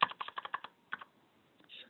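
Quick bursts of keystrokes on a computer keyboard while entering inventory pricing, a rapid run of clicks followed by a few scattered taps, close and fairly faint.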